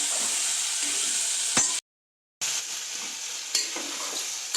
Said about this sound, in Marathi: आता याच्यात मी टाकते थोडेसे शेंगदाणे आणि टोमॅटो। मला छान परतून घ्यायचं।